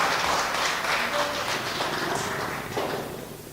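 A church congregation at a Korean Sunday service in Ho Chi Minh City claps in welcome, a dense, steady wash of many hands filling the room and tapering slightly at the end.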